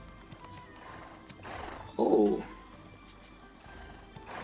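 A horse in the video game Black Desert gives a short neigh near the middle, with faint hoof and ambient game sounds around it and a brief voice at the start.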